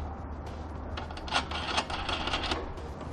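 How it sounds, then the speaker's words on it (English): A nut being threaded by hand onto a bolt through a Curt trailer hitch side plate on a 2018 Kia Sorento frame rail, giving soft, close metallic rubbing and small clicks over about three seconds against a quiet background. "We can thread on our nut."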